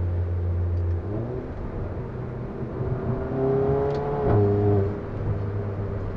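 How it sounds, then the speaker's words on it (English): A tuned Volkswagen-group car with a Stage 2 tune, a Circuit Werks downpipe and a DSG gearbox, driven in sport mode: a steady engine drone rises and settles, a faint crackle or shift blip comes near the middle, and no one speaks. "you hear those cracks and pops and those shift sounds, little DSG farts"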